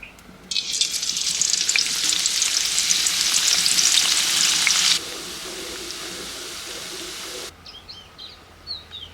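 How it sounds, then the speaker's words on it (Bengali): Chopped onions sizzle loudly in oil left from frying potatoes for dum aloo, with stirring sounds in a dense steady fry that drops to a softer sizzle, then stops, leaving faint birdsong. "এবার আলু ভাজার তেলের মধ্যে পেঁয়াজটা আমি ভেজে তুলে নেব"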